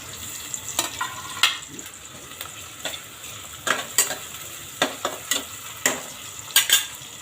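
Onion and tomato frying for veg pulao, a low sizzle punctuated by repeated sharp clinks and scrapes of a spoon against the pan in an irregular stirring rhythm, close by with no voices.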